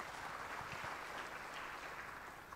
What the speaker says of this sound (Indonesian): Kita berikan tepuk tangan buat Tuhan Yesus.